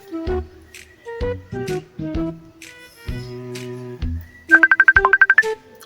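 A phone rings with a short repeating electronic ringtone, loud and close, near the end, after a sequence of synthetic tones placed while a call is dialed.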